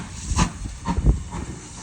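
Steam locomotive 7828 Odney Manor on the West Somerset Railway, switching platforms for a return run to Minehead, gives off a steady broad hiss of escaping steam with a few louder surges, fairly close and with no talk.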